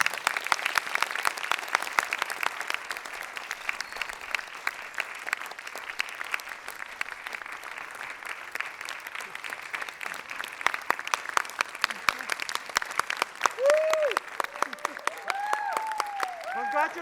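A small audience of about a hundred in a 500-seat concert hall claps for music scholars at a recital, a thin, steady patter of hands with scattered cheers and whoops rising near the end.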